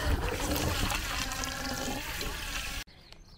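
Water runs from a tap into a hose in a town plaza, a loud, steady rushing flow that cuts off abruptly near the end.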